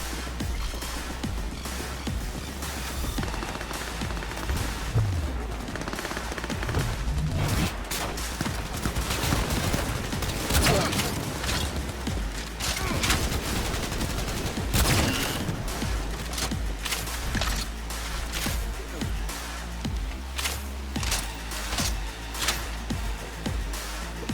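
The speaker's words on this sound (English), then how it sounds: "Keep firing, goddammit!" Sustained rapid gunfire in the video game Cyberpunk 2077, loud and dense bursts of automatic fire layered with booms and battle noise throughout, no pause.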